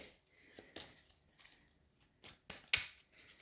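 Soft tarot card shuffling, a series of brief riffles and slides at close range, ending in one sharper snap.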